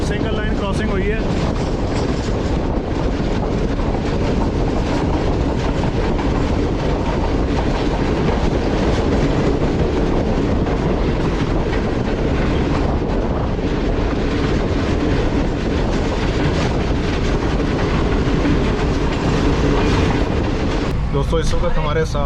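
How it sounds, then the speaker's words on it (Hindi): Sir Syed Express passenger train running on a single line in Pakistan, a loud continuous rumble with rhythmic clickety-clack of wheels and wind buffeting the microphone throughout. "सर सैयद एक्सप्रेस के साथ सिंगल लाइन क्रॉसिंग हुई है।"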